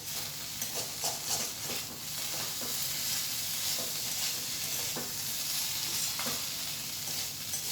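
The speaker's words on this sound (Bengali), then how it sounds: "আমি এরকমই ভাজতে থাকবো স্লো আছে, যে থাক ভাজা।" Spiny gourd (kakrol) frying slowly over a low flame in about a spoonful of oil gives a continuous, even, soft sizzle with faint crackles throughout and no talking.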